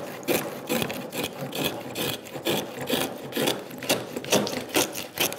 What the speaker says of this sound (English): and use the router now